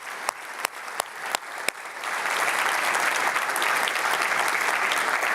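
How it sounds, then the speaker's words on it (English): At a finance-sector technology keynote, a few separate claps ring out one by one before the whole audience joins in with sustained, even applause. "Give OS-Climate a round of applause."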